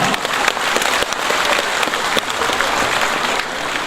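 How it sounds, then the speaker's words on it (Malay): Steady, dense applause from a crowd at a national party congress in Johor, many hands clapping continuously throughout without a break. "kita berikan tepukan gemuruh kepada semua perwakilan"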